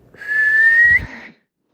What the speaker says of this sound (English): And in the distance, I hear a whistle.